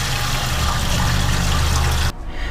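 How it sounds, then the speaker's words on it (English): Water is poured into the water pan of a smoker, a loud, steady, close splashing gush that runs continuously and then stops abruptly near the end. "get some water down in the water pan,"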